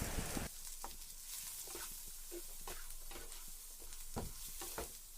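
Ginger, garlic, onion and turmeric frying for a fish curry, stirred with irregular spoon scrapes against the pan over a constant soft sizzle, no voices.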